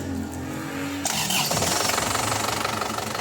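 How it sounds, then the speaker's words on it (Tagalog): An Isuzu Crosswind engine starts after a steady background hum, turning into a rough, continuous running clatter nearby, with no talking. "pa-start ko na itong makina"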